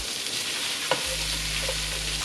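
Eggplant fries in a generous amount of oil in a pan with a steady broadband sizzle, a brief tap, then a low hum joins under the frying.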